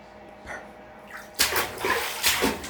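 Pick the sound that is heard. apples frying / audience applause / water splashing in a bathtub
water splashing in a bathtub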